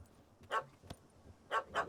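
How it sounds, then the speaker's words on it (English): A dog in The Witcher 3 gives several sharp barks, a couple of short yips spaced out then two quick barks close together, fairly faint against a quiet background. "Can't chase the dog off."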